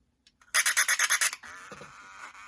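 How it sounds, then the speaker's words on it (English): A flat-blade screwdriver turns a potentiometer on an old Bachmann HO 2-10-4 Texas model locomotive. About eight quick, close rasping scrapes come in a rapid rhythm, followed by a fainter, softer scratchy hiss. "Let's grab a flat blade screwdriver here so I can turn that thing."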